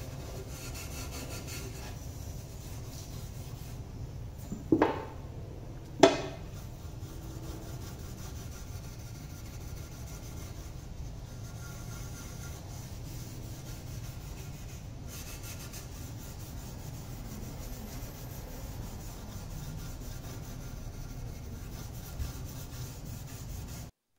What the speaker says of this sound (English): steel wool and lacquer thinner